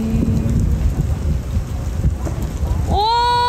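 Steady rain falls at Hubbard Glacier, Alaska, a dense hiss with low rumbling, loud and continuous, until a rising tonal sound cuts in near the end.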